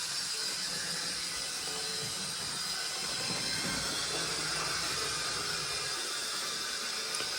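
An Airfix Castle model locomotive, its wheels not turning freely and still needing running in, runs with a steady, close hiss and rumble for the whole stretch.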